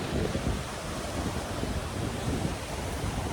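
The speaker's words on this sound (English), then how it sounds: "This is the ocean." Ocean waves wash and rumble on an overcast day, a dense, steady surf noise mixed with wind against the microphone, with no voices over it.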